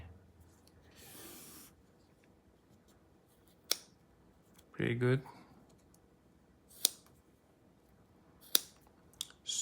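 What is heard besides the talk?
mini scissors of Roxon mini flex cutting a string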